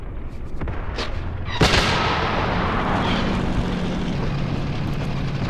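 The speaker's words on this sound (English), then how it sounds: "might have been a shell just ricocheting off the ground." Artillery shell striking and ricocheting off the ground in Graviteam Tactics, a sharp loud crack followed by a lingering rumbling roar, preceded by fainter distant thuds of gunfire.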